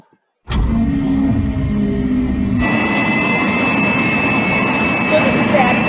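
Aircraft jet engine in a satellite launch animation starts abruptly from silence as a loud steady roar, then grows brighter and fuller partway through and holds constant to the end.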